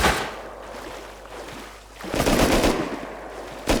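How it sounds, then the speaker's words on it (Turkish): Gunfire from boats in the video game Rust crackles and rattles in bursts over a watery engine rumble, growing louder and denser in the second half, with no speech. "Botlar da sıkıyor ona."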